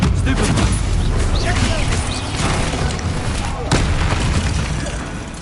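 A Confringo blasting spell explodes in Hogwarts Legacy, a loud, dense boom that fills the scene, with a sharp burst near the end over continuous game sound and voices.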